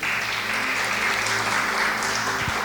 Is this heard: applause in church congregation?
yes